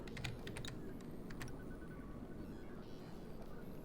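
Computer keyboard keys A and D pressed several times in quick bursts during an Oxygen Not Included game, faint clicky taps over a quiet game background hum, with a few softer taps later.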